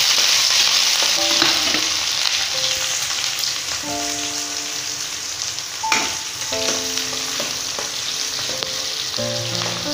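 Chopped onion fries and is stirred in a pan for a gravy dish, giving a loud, continuous close sizzle with occasional scraping stir sounds and no talk.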